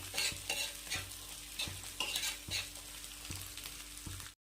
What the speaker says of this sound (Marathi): आता याला स्लो गॅसवर छान परतून घ्यायचं